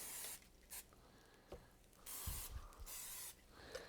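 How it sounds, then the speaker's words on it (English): Several short hissing bursts of an olive oil aerosol cooking spray, spaced irregularly, with a faint clatter in between; close and fairly quiet. "Give it a little spray with the olive oil."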